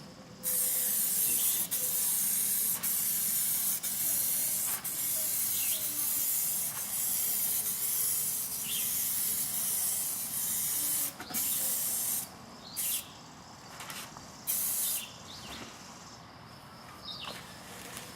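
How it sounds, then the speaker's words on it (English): Spray gun laying the third and final clear coat onto a masked car panel during a scratch repair, a steady close hiss broken by short bursts and pauses as each pass starts and stops. "apply our third and final coat."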